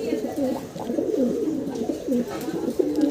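A male fancy pigeon coos repeatedly nearby, low throaty rolling calls in a steady rhythm, with faint background murmurs.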